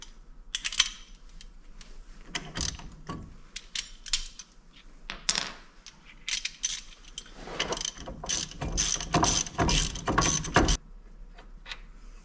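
A ratchet with an 11/16 socket works a wheel hub bolt loose on a 2003 GMC 4WD truck, giving close, sharp bursts of rapid clicking in short runs with brief pauses between them.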